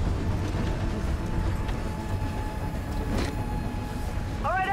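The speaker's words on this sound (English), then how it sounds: "Train's getting away." In the Gears 5 video game, a train rumbles along in a steady, loud, continuous roar with a metallic squeal rising near the end, all heard alone.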